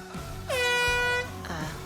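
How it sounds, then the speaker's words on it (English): A loud, brassy air horn blast sounds once for under a second, followed by a shorter, fainter honk. "you don't want to use your air horn at the golf tournament."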